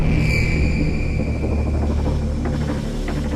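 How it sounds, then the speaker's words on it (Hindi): Storm wind roars steadily outside a house, a loud, continuous rumbling rush that persists throughout with no voices. "यहाँ तो पूरा तूफान आया हुआ है।"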